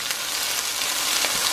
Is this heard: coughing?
no